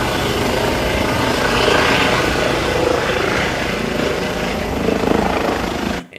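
A medical helicopter takes off from an airfield at night, its loud, continuous rotor and engine roar filling the recording and cutting off suddenly at the end, with no voices.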